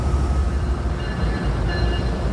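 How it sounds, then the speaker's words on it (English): Amtrak Lake Shore Limited, led by a P42 locomotive with a P32 behind, pulling out of New York Penn Station: a loud, steady low rumble of diesel engine and rolling cars in an underground station, with no voices. "And there he goes, the Lakeshore Limited starting on his long trip to Chicago."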